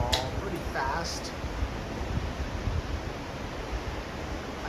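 A big, fast-flowing waterfall in Greenland rushes as a steady broadband roar, heard from a cruise ship with wind over the microphone and brief voices early on.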